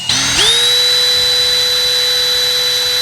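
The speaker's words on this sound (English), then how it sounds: "you measure out the copper drill bit and drill a hole" A power drill with a copper bit bores into a Jeep roof, spinning up quickly to a steady, close, high-pitched whine that holds evenly for a few seconds.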